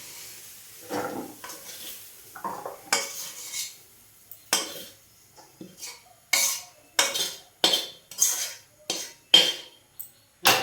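A metal spatula scrapes and clanks against a pan as fried spiced potatoes are tipped out, giving a series of sharp, close scraping strikes that grow more regular and louder toward the end.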